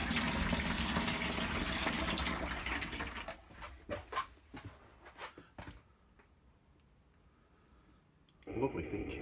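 A cold water tap in a Bessacarr E625 camper van runs with a steady hiss, then stops amid clicks and handling sounds before a brief rush returns at the end.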